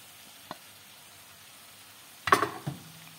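Prawns dropped into a pan already cooking avocado set off a sudden loud sizzle after a quiet stretch with one small clink, then a second crackling burst that fades to a low fry.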